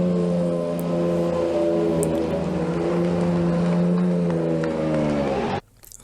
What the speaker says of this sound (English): let's go ahead and have a listen to the CLK GTR